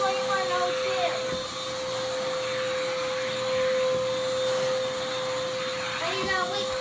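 An Oreck XL handheld vacuum cleaner runs with a steady, loud, close high-pitched whine and airy roar that holds an unwavering tone throughout, with faint background voices underneath.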